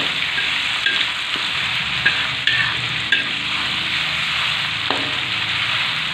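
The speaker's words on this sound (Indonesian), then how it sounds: "Ini bumbu yang tadi kita haluskan ya, kita tumis dulu sampai agak kering." A ground spice paste sautés in hot oil for a snapper head curry, giving a loud, continuous sizzle with occasional stirring scrapes and taps.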